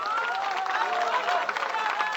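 A crowd at a political rally claps steadily, a dense wash of hand claps sustained throughout at moderate loudness, with no talk over it.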